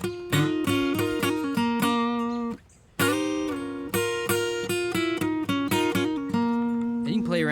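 Electric guitar plays a blues lick, a run of clear plucked notes and bends with a short pause before the phrase resumes, alone and up close.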